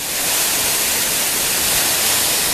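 A waterfall at Watkins Glen State Park in upstate New York roars as a loud, steady, broadband rush of falling water that fills the whole stretch, close and unbroken, with no voices.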